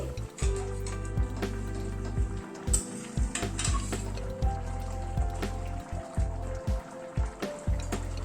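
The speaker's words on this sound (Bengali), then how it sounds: "মিনিট পাঁচেক মতো ঢাকা ছিল ঢাকাটা খুলছি" Chicken curry bubbling in an open pot once its lid comes off, a steady sizzling simmer with soft bubbling and a few clinks of a utensil against the pot, close by and continuous.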